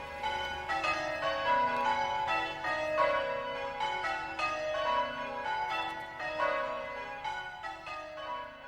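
Several church bells of Holy Trinity Church, Ashford in the Water, ring out together in overlapping, continuous peals, loud and resonant, with no voices.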